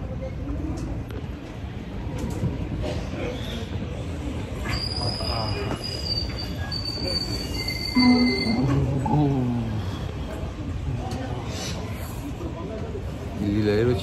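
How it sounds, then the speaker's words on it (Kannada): Train wheels squeal with high, sustained metallic tones at a cold railway station, over a steady rumble of rail traffic and station noise, with voices faintly present. "ಇಲ್ಲಿ ರೈಲ್ವೆ ಸ್ಟೇಷನ್ನೇ ಒಂಥರ ಇದೆ ರೀ."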